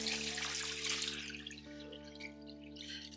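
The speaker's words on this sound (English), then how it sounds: "now we are going to add the water" Water running from a tap and pouring into jars of pineapple being prepared for canning, a steady close splashing flow that eases off slightly midway, with faint background music underneath.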